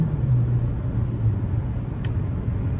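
A 2014 Buick Encore with a 1.4 turbo four-cylinder engine under way, a steady low drone of engine and road noise heard from inside the cabin, with a faint brief click partway through.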